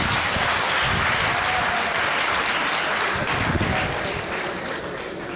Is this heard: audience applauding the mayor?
yes